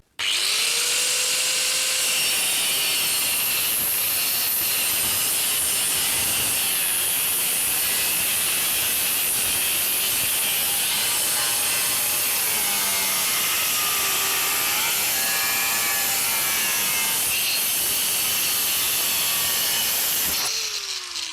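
A Hauer multi-purpose cutting disc on a power tool whines loudly and continuously through wood, a sustained high-pitched grinding roar with shifting pitch as the blade bites, running alone for about twenty seconds before cutting off.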